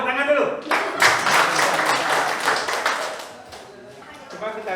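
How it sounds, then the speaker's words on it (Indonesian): A roomful of participants at an entrepreneurship simulation workshop breaks into a brief burst of group clapping, loud and fairly dense, between stretches of someone talking that open and close it. "Tepuk tangan dulu."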